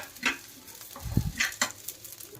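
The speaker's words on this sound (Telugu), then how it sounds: "సేమియాని ఎర్రగా వేయించుకుందాం" Vermicelli (semiya) toasting in a pan for a jaggery payasam, heard as a light, dry crackle with several scraping stirs and a dull knock of the spoon, close up and without talk.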